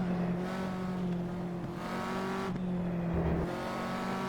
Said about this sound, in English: Full throttle up and over the hill.